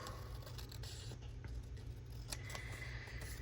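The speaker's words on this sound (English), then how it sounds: "I can cut off the border." Scissors snip through a paper border in a journal, with faint, scattered cuts over a steady low hum in a quiet room.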